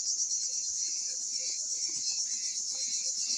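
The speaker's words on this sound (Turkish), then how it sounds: "Her yerde cırcır cır böceklerinin sesleri başlamış." Village crickets chirp in a steady, high, continuous trill with faint pulsing, moderately close, and nothing else prominent underneath.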